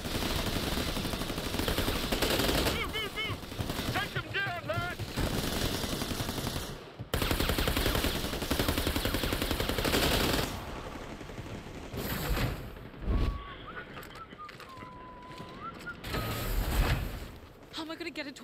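Sustained covering gunfire in New Tales From The Borderlands, with dense automatic bursts and scattered shots running almost throughout, while voices shout and talk over the shooting.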